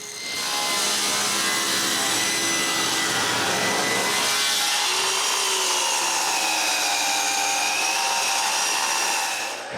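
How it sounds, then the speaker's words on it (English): A saw cutting a piece of cherry wood into blocks, a loud whining buzz that starts abruptly, shifts in pitch as the blade works through the wood, and stops at the end. "So I cut a piece of cherry."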